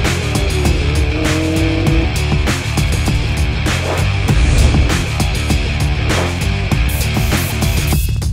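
Loud, continuous rallycross race car engine roaring and revving with dense mechanical buzz, close by and filling the whole stretch, at the FIA World Rallycross Championship.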